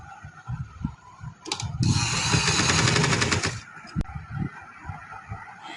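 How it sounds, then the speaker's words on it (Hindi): Sewing machine stitching along the hem of a trouser leg, a fast mechanical rattling burst of about two seconds, preceded and followed by quieter handling clicks and clatter. "ऐसे सिलाई लगाते जाएंगे।"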